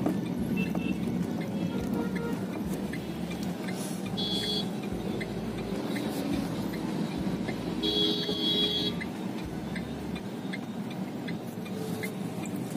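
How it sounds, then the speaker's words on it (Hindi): Heavy road traffic on the Brahma Sarovar bypass in Kurukshetra, a steady rumble of engines with two short car horn honks standing out from the din. "सो देखिए, यहाँ आज कुछ ज्यादा ही ट्रैफिक है।"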